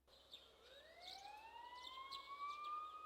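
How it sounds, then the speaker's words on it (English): Faint, distant police sirens wail with rising tones in the video game Persona 4 Golden, alone and quiet with light chirping over them. "You hear sirens in the distance."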